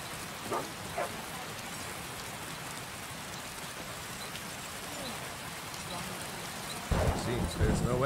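Rain falling steadily in a Skyrim game world, an even soft hiss with occasional drop ticks and a heavier, louder patch near the end, quiet overall.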